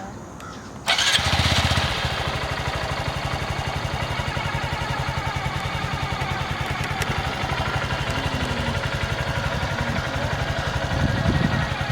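A motorcycle engine on a learner's ride fires up with a sudden jump in loudness, then keeps running close by with a steady, throbbing putter for the rest of the clip.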